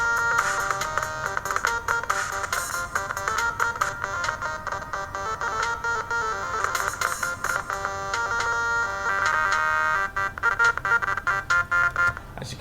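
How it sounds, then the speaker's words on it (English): A bright, buzzy triangle-wave synth lead plays a continuous electronic melody in a song's drop, at steady loudness, dense and sustained throughout. "I have this triangle wave which begins from here in the drop"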